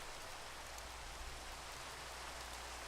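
Steady rain in a Minecraft game with the Forestry mod, a soft continuous hiss of falling drops at low volume with no other sounds.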